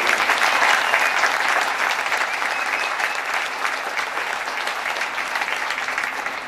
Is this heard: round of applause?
yes